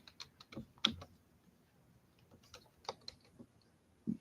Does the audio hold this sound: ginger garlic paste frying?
no